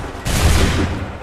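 A musket volley erupts in Assassin's Creed III, a sudden loud crackling burst of many guns firing together, followed by a heavy rolling rumble that holds for about a second.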